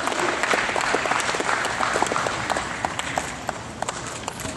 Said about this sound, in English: let's give all these exhibitors a round of applause